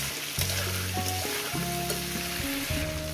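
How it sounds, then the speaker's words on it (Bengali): Potato and elephant foot yam pieces fry in a pan with a continuous soft sizzle, heard beneath a stepping melodic music track. "এটা সুন্দর করে মিনিমাম 5-7 মিনিট ধরে আমি সবজিটাকে ভেজে নেবো।"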